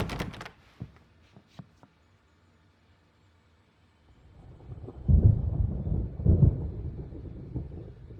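Stormy weather in the game Alan Wake Remastered: after a few sharp knocks and a quiet lull, a low rumbling thunder swell builds and rolls in two heavy surges over a dull rain-like wash.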